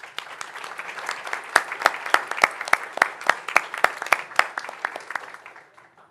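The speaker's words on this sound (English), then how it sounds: "Let's give them a round of applause." Audience applause for honored graduates at a regular board meeting: a modest group claps in crisp, distinct strokes that build, hold steady, then thin out and fade toward the end.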